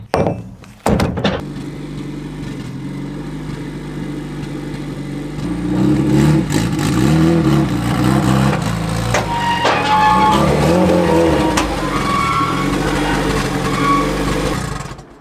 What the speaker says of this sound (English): I think we should be pulling up on the trailer here